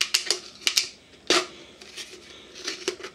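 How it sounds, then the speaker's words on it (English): Scissors snip through a plastic bottle in a series of crisp cuts, several close, clicky bursts in irregular rhythm with short pauses between. "take your scissors and do just like you did on the bottom"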